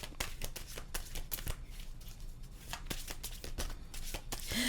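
Tarot cards are handled and shuffled close up, a quick series of crisp riffling snaps and soft slides repeating in bursts, with no talking.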